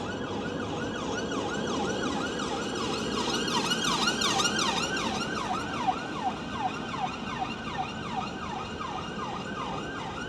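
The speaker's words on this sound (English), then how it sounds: "Anyway, ambulance." An ambulance siren wails in repeated rising and falling sweeps, moderately distant and steady, over a low rumble of road traffic.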